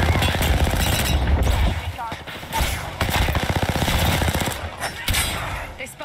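Rapid automatic gunfire in the game Apex Legends, loud and close, in long sustained bursts with brief pauses, while a player talks over the shooting.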